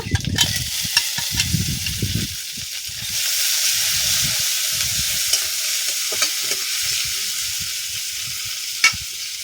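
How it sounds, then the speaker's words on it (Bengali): Tomatoes tipped into onions already fried to a reddish brown, with ginger paste in the pan, for a spicy lote (Bombay duck) fish curry; steady loud sizzling hiss, with stirring scrapes and knocks and a sharp clank near the end. "পেঁয়াজ লাল করে ভেজে নিয়েছি, দিয়ে দেব টমেটো"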